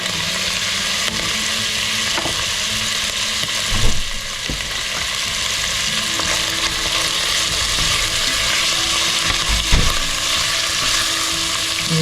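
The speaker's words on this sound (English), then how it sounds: "brown the meat off first" Beef seasoned with salt and pepper browns in a pan for a Caribbean beef curry, giving a steady, loud, close sizzle and crackle throughout, with occasional clinks and scrapes as the meat is moved.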